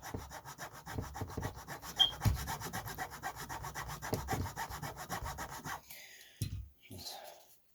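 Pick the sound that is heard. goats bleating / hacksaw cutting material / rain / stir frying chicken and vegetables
hacksaw cutting material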